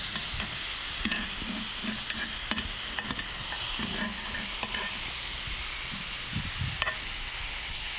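Stuffed pork chops sizzle loudly on a grill: a steady, close hiss dotted with sharp crackles and pops throughout, with no talking.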